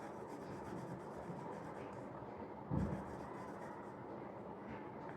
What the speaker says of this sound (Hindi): इस तरीके से पेंसिल को रब करके बिना उठाए आप शेडिंग कर सकते हो।